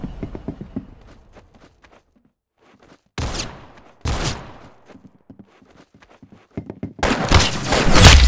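Gunfire in the Roblox shooter Arsenal comes in three loud bursts: a short volley, a second burst a second later, then a longer sustained spray at the end, with quiet gaps and faint footsteps between.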